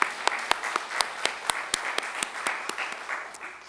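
Applause from a Korean Reformed Presbyterian church congregation during a Sunday service, a steady wash of many hands with sharp individual claps standing out at a fairly regular beat, moderately loud and with no voices over it.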